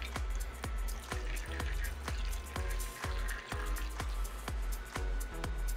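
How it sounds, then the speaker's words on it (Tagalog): Water drips in a steady, even rhythm of single drops, about two per second, faint and close, while being poured for a pet inside its enclosure. "Bigyan natin tubig."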